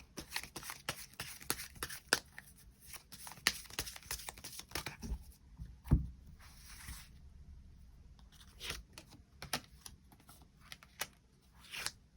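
Tarot cards are shuffled and drawn by hand in a quiet room, giving a run of crisp card snaps and papery riffles with a few sharper flicks, close and fairly loud against a faint background hiss.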